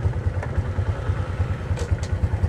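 A custom motorcycle with a modified engine block idles with a steady, low, rapid thumping pulse, close and continuous, without cutting out.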